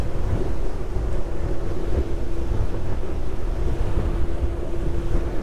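A J Craft Torpedo RS motorboat running fast toward top speed with steady engine drone, rushing water and heavy wind buffeting the microphone throughout.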